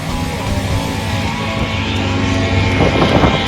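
A STOL propeller airplane landing at Livermore Airport during a short takeoff and landing event, its engine a steady loud drone with harmonic buzz throughout, rising slightly near the end.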